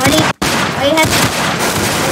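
Rapid gunfire in the Roblox game Arsenal, dense overlapping shots and bursts with a brief gap, loud and close, with game sound effects mixed in.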